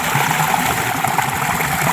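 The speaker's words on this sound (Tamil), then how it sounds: "ஓடுற தண்ணியில் ஆனால் கழுவுனா அது ஒரு ஜாலி தான்" Steady running water splashes and trickles in a garden as fish are washed under it, a continuous close-up wash of sound with no talking.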